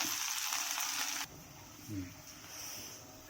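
Okra frying in a little oil in a pan, a soft steady sizzle that quiets partway through, with a faint stir or scrape near the end.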